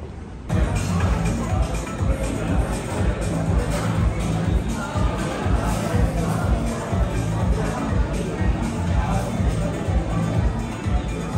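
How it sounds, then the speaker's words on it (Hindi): A busy restaurant crowd at dinner in Gurgaon, with a steady, dense babble of many voices and clatter filling the room throughout, close and continuous. "पूरी भीड़ बहुत है आज यहाँ पे"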